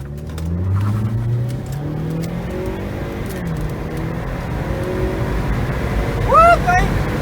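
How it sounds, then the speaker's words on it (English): A 2013 Ford Escape 2.0 turbo accelerates hard in a 0-60 run, its engine note climbing through rising gear sweeps under excited talk, with a sharp squealing whine near the end. "we're going to do a 0 to 60 pull on my manager's 2013 Ford Escape"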